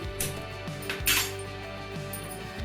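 A metal kadai is set on a gas stove with a few sharp clanks and clinks, quiet and close, before flax seeds are dry-roasted on low flame.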